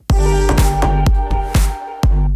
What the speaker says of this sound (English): a tom that hits in between the bass line